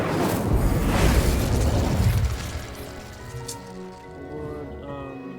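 Incendio fire spell cast in the video game Hogwarts Legacy: a loud, close fiery burst and boom that swells for about two seconds, then fades into softer crackling and lingering tones.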